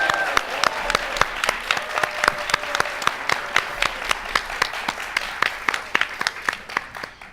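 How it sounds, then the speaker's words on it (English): Loud, close clapping from a middle school audience at a Texas history quiz show, applauding the contestants with sharp, rhythmic claps that keep a steady beat throughout. "Let's have a big round of applause for all of our contestants."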